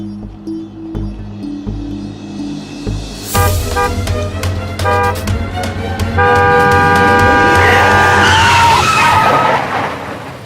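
A car braking hard in a near-accident, a tonal screech that rises and sweeps upward, joined by loud sustained horn blasts and engine noise close by.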